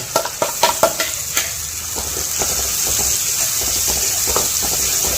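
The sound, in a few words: stirring sweet corn usal with chili powder and salt in pan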